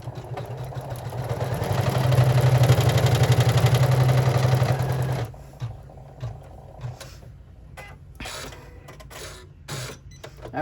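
A sewing machine runs a top stitch on fabric, a steady fast mechanical whir for about five seconds, close and fairly loud. It then stops, leaving quiet handling noises and light clicks with no talk.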